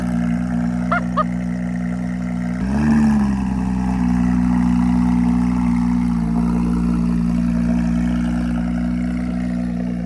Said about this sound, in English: Johnny Cocker, that's a loud exhaust